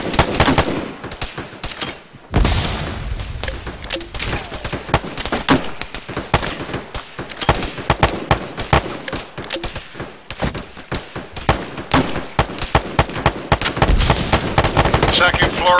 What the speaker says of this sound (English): we do hear shots fired